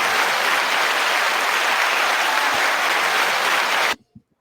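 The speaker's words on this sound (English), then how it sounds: "The most generic clap." Generic applause sound effect: a dense burst of many hands clapping at steady loudness that cuts off abruptly, followed by a couple of faint stray sounds.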